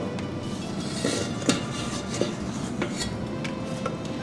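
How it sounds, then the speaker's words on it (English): Yeast scraped from a small container into a bowl of dough, giving soft clinks and scrapes of utensil against the bowl with a few sharper knocks, close and fairly quiet, with no talking. "So now I'll take the yeast and I'll scrape it in."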